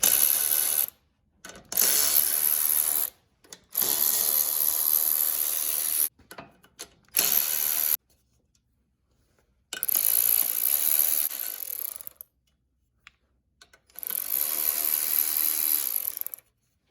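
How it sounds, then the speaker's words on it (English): A ratchet loosening the valve cover bolts on a Briggs and Stratton engine, rapid clicking in several bursts of one to two seconds, close and loud, separated by silent pauses. "Now I'm gonna take the valve cover off here and then the spark plug."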